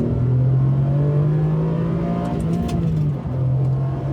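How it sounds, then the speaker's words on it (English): A Ferrari 575M accelerates at full throttle, its engine note climbing in a strong, steady drone, dipping briefly as it shifts near the end, then pulling again, heard close and loud with no talking. "when you go to floor it, it rears back and it's ready to go, and it sounds so good doing it"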